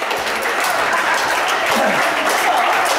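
An audience at a stage hypnosis show claps as volunteers head to the front of the room, a continuous broad clatter of hands at moderate loudness with some crowd murmur beneath.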